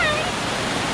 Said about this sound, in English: we're just chilling by this little waterfall